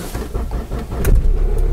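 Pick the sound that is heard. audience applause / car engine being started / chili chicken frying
car engine being started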